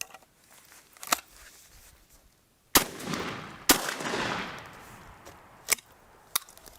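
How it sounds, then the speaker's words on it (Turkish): A D-DOXCARMS DP-26 over-under shotgun is test fired, giving several sharp, loud reports spaced a second or two apart, with a reverberant tail after the louder shots and no talking. "bir sefer atış yapacağız"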